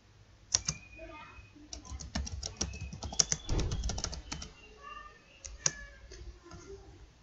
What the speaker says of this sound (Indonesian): Kita ketik saja ya.